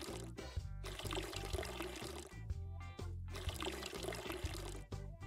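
Repeated watering of plants in the video game Weed Shop 2: several bursts of splashing, pouring water over looping game music.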